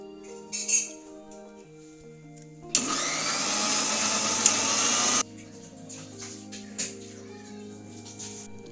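A mixer grinder blends coriander, mint, green chillies, salt and a little water into panipuri paste, a loud steady whirring burst lasting about two and a half seconds. Quieter tonal sounds come before and after it.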